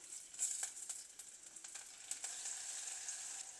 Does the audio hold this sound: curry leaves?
yes